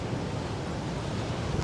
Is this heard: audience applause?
no